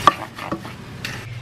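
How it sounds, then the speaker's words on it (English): Rice being stirred and browned in a pan, a few scraping strokes over a soft steady sizzle, close by and fairly loud with no voices. "I'm just going to mix this up and brown it."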